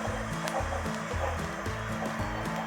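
A blender motor whirs continuously at close range, blending a sauce with Dijon mustard, its pitch wavering slightly as the contents churn, with no voices.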